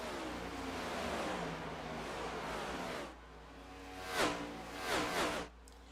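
Race car engines roar in the iRacing video game as a pack of cars drones past, then single cars rev and sweep by up close in quick pitch-shifting passes.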